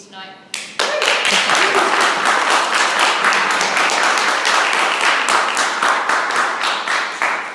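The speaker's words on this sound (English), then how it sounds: "An extra special round of applause for Robert" Enthusiastic audience applause for a Toastmasters club speaker after an icebreaker speech, dense close clapping that starts abruptly and keeps going strongly for several seconds.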